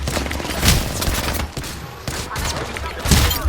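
Gunfire in Apex Legends: a rapid fusillade of shots with loud cracks near the start and end over continuous battle noise, while players talk over it.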